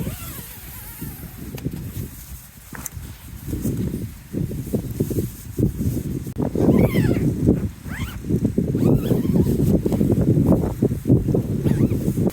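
Gusty wind buffets and rustles around a tent pitched at a wild camp, swelling and easing in uneven surges, with fabric flapping and a low rumble throughout.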